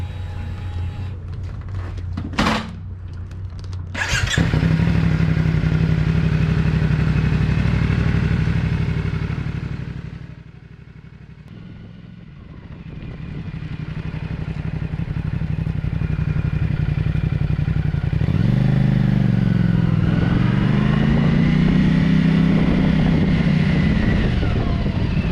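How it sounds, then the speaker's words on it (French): A CF Moto 450 motorcycle starts up with a sharp clatter, then its engine idles steadily, dips briefly, and revs up with a rising and falling growl, running close and loud throughout with no talking. "dès l'allumage, je compris que CF Moto avait conçu un moteur fabuleux."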